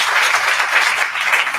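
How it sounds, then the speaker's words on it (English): Sustained audience applause at a Women in Cannabiz event, a dense even wash of many hands clapping at steady loudness throughout with no voices on top. "give yourselves a round of applause for that"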